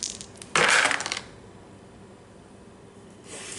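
A handful of dice is rolled for a Warhammer 40K tabletop battle, Dark Angels against Genestealer Cults. A loud, close clattering rattle lasts about half a second, then comes a quiet stretch and a fainter rattle at the very end.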